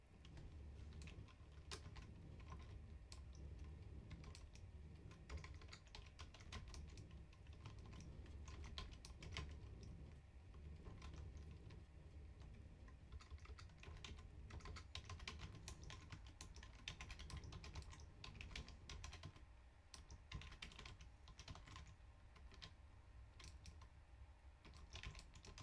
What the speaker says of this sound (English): Typing out messages in chat.